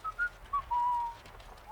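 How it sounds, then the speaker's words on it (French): A person whistles a short, wavering tune of several thin, clear notes, fairly quiet against a soft background. "arrêtez de siffler"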